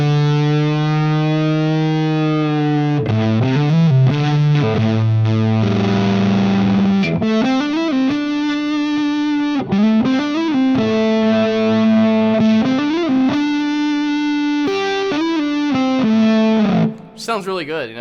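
Electric guitar run through a Pi Fuzz pedal on a Fractal FM9 modeler plays lines, thick and distorted with sustained bends and vibrato, loud and up close, ending in a brief scrape.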